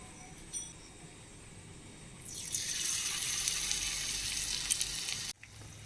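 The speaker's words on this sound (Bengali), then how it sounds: "কড়াইয়ের তেল গরম হয়ে গেছে, এখন আমি পকোড়াগুলো ভেজে নেব" Pakoras hit hot oil in a wok and erupt into a loud, dense sizzle that holds steady for several seconds before cutting off, after a quieter opening with faint kitchen clatter.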